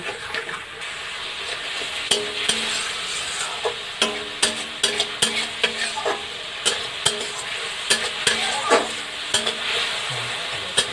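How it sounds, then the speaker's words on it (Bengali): Spice masala for a thin fish curry fried and stirred in a pan, with a steady loud sizzle and rhythmic utensil scrapes and taps close by. "মশলাটা আমার এখানে কষা চলছে"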